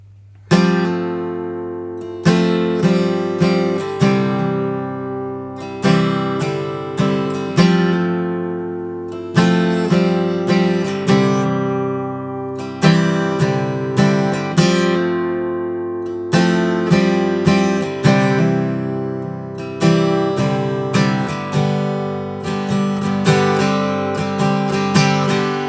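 Guitar plays the verse of a song, steady strummed and picked chords repeating in a regular cycle, close and full for about twenty-five seconds without any talking.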